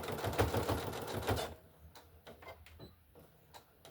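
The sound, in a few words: sewing machine back stitching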